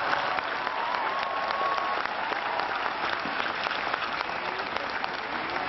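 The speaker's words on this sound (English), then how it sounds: "Let's give our graduates a tremendous round of applause." Sustained applause from a large commencement crowd at a university graduation ceremony, a steady wash of clapping heard at some distance, with scattered voices mixed in.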